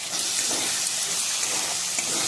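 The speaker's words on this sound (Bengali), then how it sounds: "এবারে দেবো যে পেস্টটা বানিয়ে রেখেছিলাম সেটাকে। একটুখানি মশলাটা কষিয়ে নিলাম।" A homemade spice paste sizzles as it is sautéed in a pan, giving a steady, dense frying hiss throughout with no talk.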